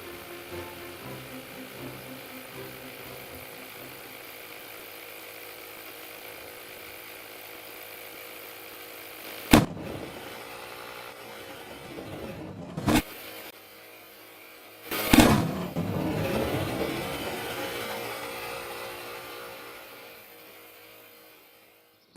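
An American football overinflated with a pump until it fails bursts with a sharp, loud bang, following steady background hum with a couple of other brief sharp cracks nearby.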